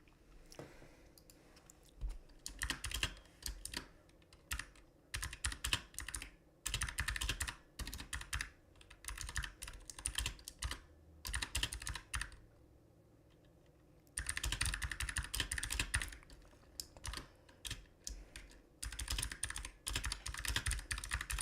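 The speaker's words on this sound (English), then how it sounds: "You can probably hear my keyboard." Close, fast computer keyboard typing comes in bursts of rapid clicking with short pauses between runs, and no voice over it.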